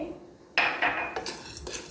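Whole spices such as black pepper and fennel seeds are stirred in a pan over low heat, giving a few quick metallic clinks and scrapes of a spoon against the pan in a quiet kitchen.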